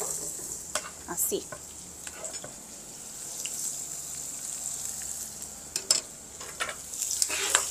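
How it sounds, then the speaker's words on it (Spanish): Onion sautés in a pan, giving a steady soft sizzle with occasional louder scraping stirs and faint utensil clicks, and a brief spoken word passes in the middle. "Ahí, estamos haciendo cebollita. Así, sofrita, doradita"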